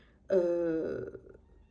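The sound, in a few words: pet cat meowing to come into the room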